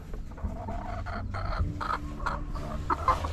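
Pet chickens cluck steadily at close range while being bathed, with short overlapping calls and a low rumble of handling noise beneath.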